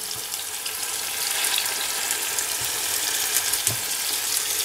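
Beef rouladen browning in a Dutch oven, a steady broadband sizzle of hot fat close by, with a few soft knocks as pieces are set in the pot.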